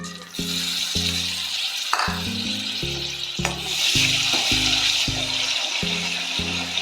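Ginger and garlic hit hot oil in a pan for a beans stew, giving a loud, steady sizzle and crackle throughout, with harmonic music running along underneath.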